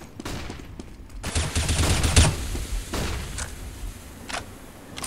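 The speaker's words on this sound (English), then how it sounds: "Spadoodle with the AWP though does get a frag on Powell's side" Gunfire in a Counter-Strike esports match, including AWP sniper shots, scattered sharp bursts and single shots heard at moderate volume with brief gaps between them.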